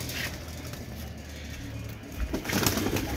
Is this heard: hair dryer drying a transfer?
no